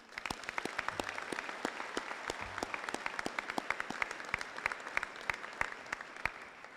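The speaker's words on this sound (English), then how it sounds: "I'd like to ask everybody in giving me the staff and the cadre another round of applause" Sustained applause from an audience at a community salute-to-service event honoring staff and cadre, dense continuous clapping with sharp individual claps standing out, steady and fairly distant throughout.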